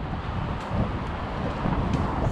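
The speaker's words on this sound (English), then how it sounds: "It's loud, it's windy, and there's a lot of cars, so hopefully you can hear me." Wind buffeting the microphone at Bryan's Bay in Port Antonio, with a continuous low rumble of passing road traffic underneath, steady and loud throughout with no speech.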